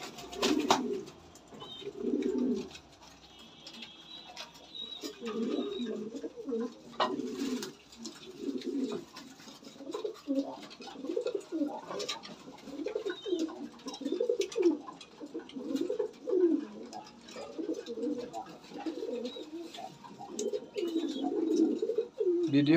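Pet pigeons coo repeatedly in soft, rhythmic bursts close by, the low throaty calls continuing steadily throughout with faint background noise and no talking.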